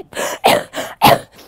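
A person coughing from sickness, four harsh bursts up close, loud and raspy, evenly spaced with short gaps between them.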